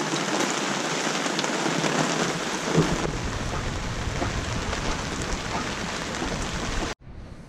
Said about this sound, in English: We get to collect rain right before our journey.